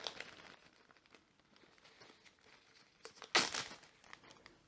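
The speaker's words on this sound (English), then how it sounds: "Now we're going to place this in a Ziploc bag." A seed tray is slid into a plastic Ziploc bag with faint crinkling that builds to one loud crackling rustle near the end.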